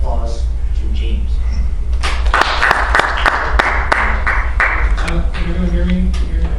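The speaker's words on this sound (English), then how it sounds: "So please give a nice welcome, warm applause to James." An audience at a campus forum breaks into applause to welcome a speaker. A burst of many close, sharp claps starts after a couple of seconds and runs steadily to the end, with a voice heard before it begins.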